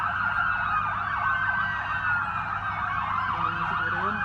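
A police siren wails steadily in rising and falling cycles on an Abu Dhabi street, loud and fairly close, over a low rumble of traffic.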